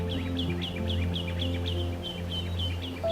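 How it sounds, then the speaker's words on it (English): Birds chirping outdoors during turkey season, a quick regular series of high chirps repeating through the clip over a steady low hum in the background. "I hear the birds chirping."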